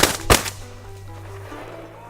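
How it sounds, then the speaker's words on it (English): A single loud shotgun blast fired at a flushed pheasant during an outdoor bird hunt, followed shortly by a second sharp report and then quiet outdoor ambience. "Any minute now, pheasant's gonna fly up. I'm gonna shoot it."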